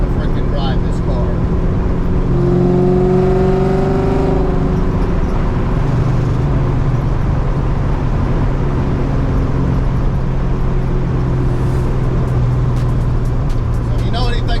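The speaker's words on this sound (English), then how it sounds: "Absolute blast to freaking drive this car." A Ford Capri with a swapped Coyote V8 drives down the street, its engine droning loud and steady throughout while the pitch rises and falls with the revs.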